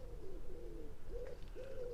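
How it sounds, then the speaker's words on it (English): Pigeons coo in low, soft, repeated rolling calls outdoors at a church, with other birds faintly chirping in the background; steady and moderately close. "Birds are going crazy."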